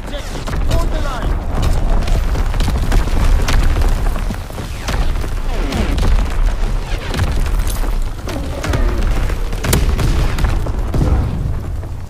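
Artillery battery firing in the World War II shooter Call of Duty: WWII, a dense stream of booms and bursts rolling under game voices and battlefield noise, steady and loud throughout.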